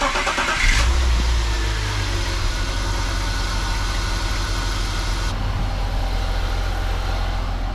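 A BMW E36 engine that has just had cam work cranks briefly, catches and settles into a loud, steady idle close by, running on with an even rhythmic chug.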